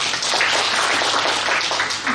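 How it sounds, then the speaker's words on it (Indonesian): An audience at a Posyandu event in Kota Malang claps together in brief, steady applause, a close dense patter throughout. "Tepuk tangan Kota Malang"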